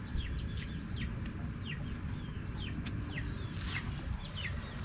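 Chickens clucking in a series of short, chirpy calls over a steady background hiss, moderately close.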